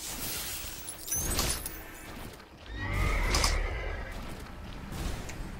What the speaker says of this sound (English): It's a mean looking horse.